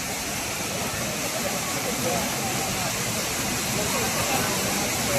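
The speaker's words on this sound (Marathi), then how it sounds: "आता मी पहिला धबधबा आहे तिथे," Kumbharte waterfall pours with a steady, loud broadband rush of falling water that stays constant throughout, close at hand.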